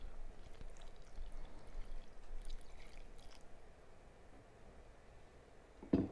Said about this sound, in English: I wanted to add enough water to cover all my vegetables in the pot.